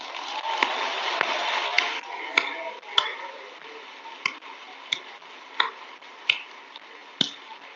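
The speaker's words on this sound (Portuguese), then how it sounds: "Eu vou aplaudir sozinho." A single person clapping alone at a charismatic church gathering, sparse sharp claps spaced irregularly about a second apart over a steady murmur of room noise, fairly close and distinct.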